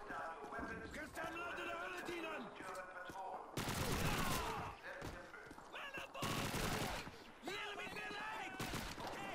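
Gunfire and fusillades in the World War II shooter game Call of Duty 2, with repeated bursts of shots and explosions over busy battle noise, fairly loud and continuous throughout.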